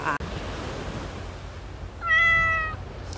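A single clear cat meow rises near the end over steady wind and surf noise, close by and fairly loud against the breezy background of a white-sand beach on Koh Samet, Thailand.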